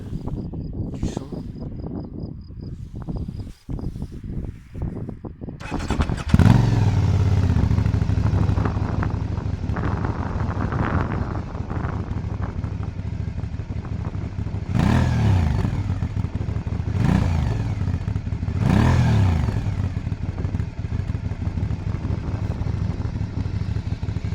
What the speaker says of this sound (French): c'est l'échappement d'origine, mais même avec l'échappement d'origine, ça fait un beau bruit